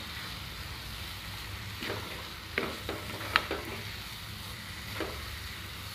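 Cashews and almonds cooking in ghee within a carrot halwa, a low quiet sizzle with a few soft stirring clicks and scrapes, close and without talk.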